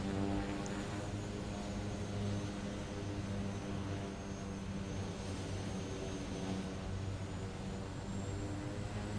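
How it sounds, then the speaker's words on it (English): Seaplane propeller engine running steadily in the Bahamas, a loud, continuous droning hum with strong harmonic tones that swell slightly and hold for the whole stretch, close by with no talk over it. "The sounds are awesome on this airplane."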